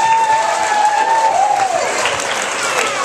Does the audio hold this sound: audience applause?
yes